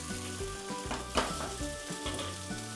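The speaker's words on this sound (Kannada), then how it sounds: "ಈಗ ಈ ಫ್ರೈ ಮಾಡಿರೋ ವೆಜಿಟೇಬಲ್, ಪನ್ನೀರ್ ಎಲ್ಲದಕ್ಕೂ ನೂಡಲ್ಸ್ ಮಿಕ್ಸ್ ಮಾಡೋಣ" Noodles being stir-fried together with fried vegetables and paneer in a hot pan, a steady sizzle with repeated scraping and tossing strokes, one sharper clatter midway, no voices.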